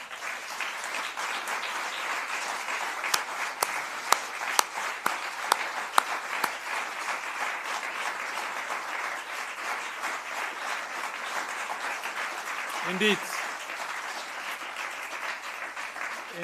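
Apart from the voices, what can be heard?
audience applause for the winner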